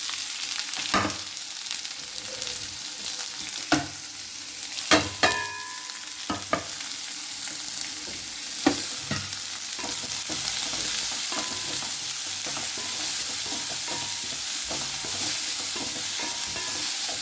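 Onions frying and being stirred in a pan for tomato thoran, a Kerala dish, with a steady sizzle throughout and sharp scraping clicks of a spoon against the pan, close and fairly loud, no voices.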